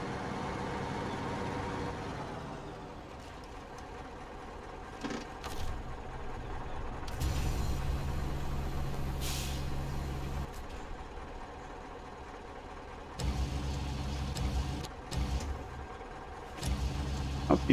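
A heavy truck engine in SnowRunner drags a fuel trailer through British Columbia terrain, a steady low diesel drone that swells and surges in throttle bursts, heard alone without talk.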